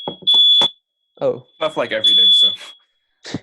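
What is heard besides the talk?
fire alarm going off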